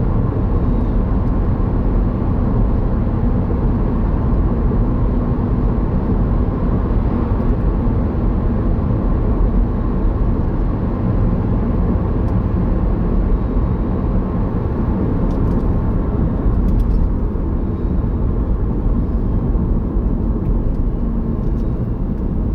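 Inside a moving car, engine and road noise form a loud, continuous, unbroken drone lasting the whole stretch without any voices.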